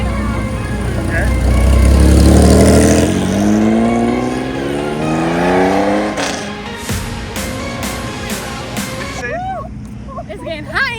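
A 1,000-horsepower Cadillac CTS-V with a matching stance at a Palm Beach cars and coffee meet, its loud engine roaring and sweeping through rising and falling revs up close, then a few sharp blips, amid crowd chatter.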